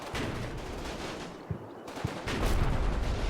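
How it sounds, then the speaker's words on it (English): WWII strategy game combat with mortar shelling and gunfire, a dense continuous rumble of rapid shots and blasts that swells louder near the end. "And just so many mortars just shelling the absolute shit out of us."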